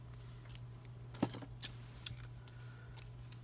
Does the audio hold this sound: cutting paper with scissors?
yes